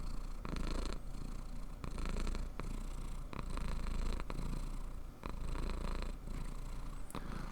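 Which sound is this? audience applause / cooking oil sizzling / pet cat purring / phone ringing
pet cat purring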